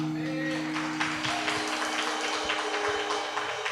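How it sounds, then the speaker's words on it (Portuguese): Church congregation applauding, a steady wash of many hands clapping close and even throughout, with a sustained hum of voices or music underneath. "Diga amém e aplauda ao Senhor"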